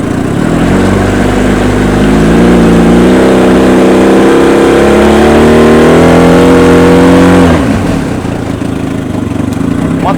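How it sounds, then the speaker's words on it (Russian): A Mikatsu 30 outboard motor running in gear, loud and close, with a steady droning engine note that rises slightly in pitch before dropping and settling to a rougher, lower hum near the end. "Мотор работает очень хорошо."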